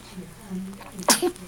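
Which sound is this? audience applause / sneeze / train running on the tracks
sneeze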